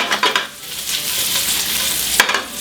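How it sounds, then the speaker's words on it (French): Smoked pork belly pieces fry and sizzle in a pan with steady loud crackling, stirred by a spoon that scrapes and clacks in several bursts, including a sharp knock near the end. "je la fais chauffer pour faire fondre la graisse"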